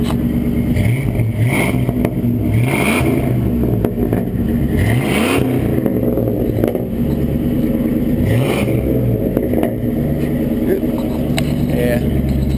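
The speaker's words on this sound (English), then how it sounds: "just a quick little cold start with the new exhaust on Fordzilla" A Ford truck with bed-mounted exhaust stacks, its catalytic converter removed and a Flowmaster muffler fitted, cold-starts and idles loudly and continuously, its engine note swelling and dipping throughout while voices talk over it.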